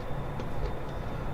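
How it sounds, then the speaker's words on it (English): A Class 6 diesel train rolls along the Medway Valley Line in Train Simulator 2018, giving a steady, continuous low engine rumble and rail noise with faint rhythmic wheel clicks. "We are obviously a Class 6 train."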